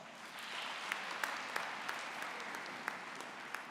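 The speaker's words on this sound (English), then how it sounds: "So I think they also deserve a real great round of applause." Graduation audience at a Faculty of Education ceremony applauds in a steady, dense wash of clapping, fairly distant and even, with a few sharper individual claps standing out.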